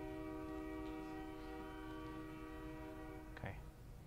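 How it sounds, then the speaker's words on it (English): Outside a lecture hall, a passing train sounds a long, sustained multi-tone horn over a low rumble, heard from a distance and cut off abruptly near the end. "another train comes"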